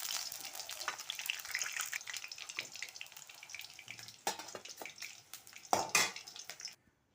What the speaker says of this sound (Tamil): இப்போ அதே கடாயில் கொஞ்சம் கடுகு, வெந்தயம், சீரகம், ஒரு 2 கருவேப்பிலை போட்டு தாளிச்சிக்கலாம்.